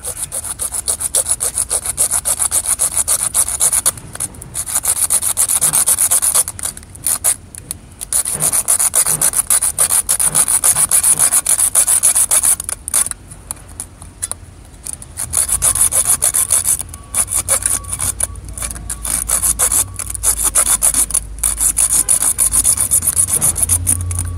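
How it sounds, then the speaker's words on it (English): Irrigation pipe cut with a hand saw: loud, close, rhythmic rasping strokes in steady runs, broken by a few short pauses. "Steadier pipe's easier to cut."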